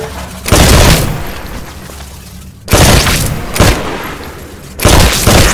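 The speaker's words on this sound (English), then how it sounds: "Switch to your rifle. Destroy all of the targets in the shooting range." A rifle firing at targets on a shooting range in the video game Titanfall, heard as four loud, booming shots spaced about a second or more apart, each trailing into a long echoing decay, with no voices.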